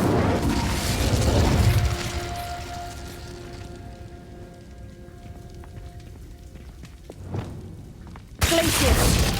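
The Incendio fire spell cast in Hogwarts Legacy gives a loud roaring whoosh of flame up front that fades into quieter rumbling, then a fresh burst of fiery noise near the end.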